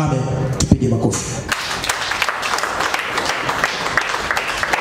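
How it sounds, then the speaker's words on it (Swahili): A church congregation breaks into applause after a prayer. Dense, sustained clapping fills the room throughout, beginning after a brief stretch of voices and other sounds at the start. "Tupige makofi."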